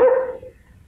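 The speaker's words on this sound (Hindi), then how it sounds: "ये कुत्ता क्यों भौंक रहा है" A single sharp dog bark sounds close and loud, then quickly fades away in a classic 1951 Hindi film scene.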